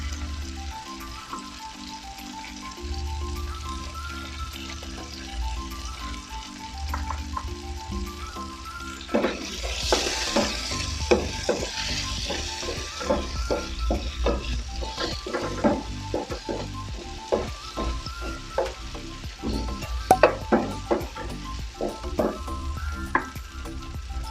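Sliced salmon belly sizzles and spatters steadily in a hot frying pan, with a loud burst as the pieces go in and continuous crackling frying, punctuated by frequent sharp pops and utensil scrapes as they are stirred.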